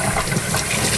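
Water splashes and gushes steadily as a small aquarium filter sponge is rinsed out during a freshwater tank water change, a close, continuous wet rush with no talking.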